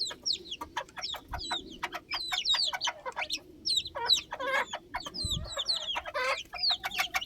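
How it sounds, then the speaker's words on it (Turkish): Many high, quick chick cheeps chirp in rapid bursts throughout, close and busy, with occasional soft low thumps underneath. "Şu anda bir tane civciv girdi."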